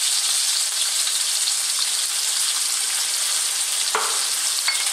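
Chicken seasoned with salt and black pepper fries over above-medium heat in a pan, a steady loud sizzle running throughout with a brief stirring scrape near the end.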